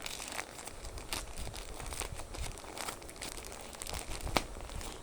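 A package is unboxed up close, with plastic packaging crinkling and rustling continuously and sharper crackles scattered throughout. No one speaks.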